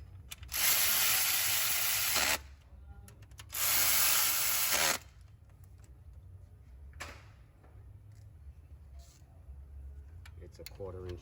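A 1/4 inch drive tool tightens a bolt on a 2005 Nissan Pathfinder alternator: two loud bursts of rapid mechanical whirring of about two seconds each, then quieter clicks and handling noise, with talk between.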